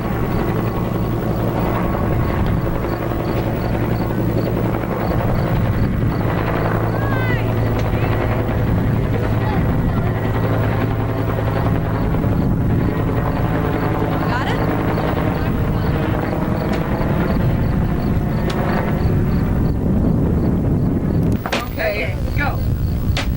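A helicopter's steady rotor drone fills the clip, loud and continuous throughout, with voices talking over it now and then.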